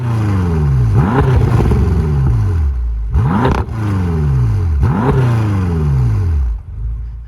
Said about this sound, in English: I love the sound that this V8 makes.